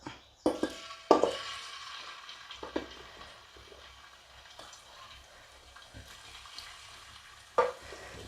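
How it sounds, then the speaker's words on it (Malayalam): Beef pieces drop into hot oil for beef pickle and fry with a soft, steady sizzle, punctuated by several sharp clinks and scrapes of a spoon against the pan. "നമ്മുടെ എണ്ണ ചൂടായിട്ടുണ്ട് കേട്ടോ നമ്മുടെ ബീഫൊക്കെ ഇട്ട് കൊടുക്കാം"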